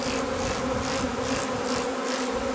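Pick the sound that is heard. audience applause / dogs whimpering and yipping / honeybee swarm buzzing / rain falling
honeybee swarm buzzing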